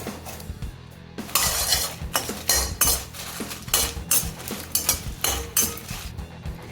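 Byadgi chillies frying in ghee in a pan, with rhythmic metallic scraping and clinking of a spoon against the pan in loud repeated strokes, no talking.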